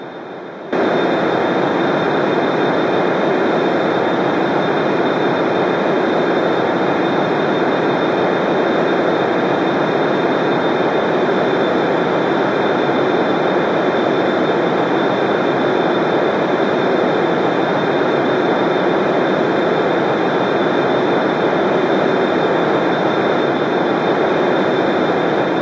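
An Su-33 jet takes off from an aircraft carrier in a Roblox video game, its engine cutting in abruptly and then holding a loud, constant roar with a steady high whine for the rest of the clip.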